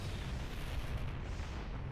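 Heavy cannons firing in a video game free-for-all match, a loud, dense and continuous booming rumble with overlapping blasts that never pauses, heard alone without voices.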